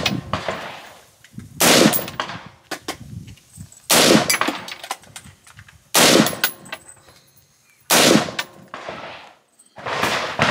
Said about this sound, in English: let's make it a hot line and put some rounds down range